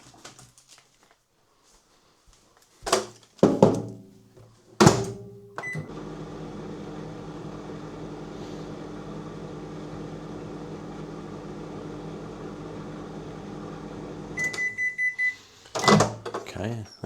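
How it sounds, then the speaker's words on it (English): A microwave oven heats a TGI Fridays chorizo mac and nacho cheese meal: a few clunks and beeps as the door shuts and buttons are pressed, then a steady hum for about nine seconds, ending in beeps and handling noises. "So let's crack it in the microwave."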